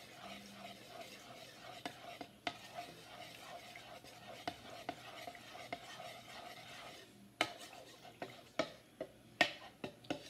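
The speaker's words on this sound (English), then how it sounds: "I'm going to stir it until the flour is gone." Soft, irregular scraping and ticking of a spoon stirring flour into rib-eye stroganoff in a pan, quiet and close, with sharper clicks growing more frequent toward the end and no talking.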